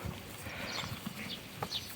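A stallion being led home on foot, hooves clip-clopping in a light uneven rhythm, fairly faint over a soft outdoor background, without talk.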